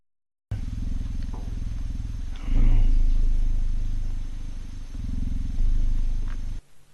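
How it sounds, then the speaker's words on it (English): Two cheetahs purr at once close up, a deep, continuous rumbling purr that swells louder midway and pulses steadily with each breath before stopping abruptly. "2 cheetahs purring at once."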